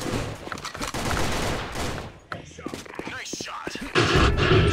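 Rapid video-game gunfire crackles in dense bursts, loud and steady for about two seconds, then breaks into scattered shots under people talking, before a heavy volley returns at the end.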